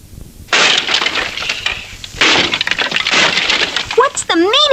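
A cartoon sound effect of something bursting open: loud crunching, shattering crackles in two bursts, followed by a rising, wobbling whistle-like tone at the end.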